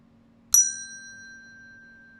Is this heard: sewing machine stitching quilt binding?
no